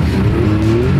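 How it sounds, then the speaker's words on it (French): A tracked buggy's turbocharged engine revs in the snow at a ski resort, a loud, close, continuous drone with a rising whine running through it. "Oh, le bruit du turbo, mon gars."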